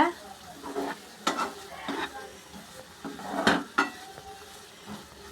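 Onion, tomato and ginger garlic paste being sautéed in a pan, giving a soft steady sizzle with scattered spoon scrapes and clinks against the cookware, close and moderately loud, with no talking.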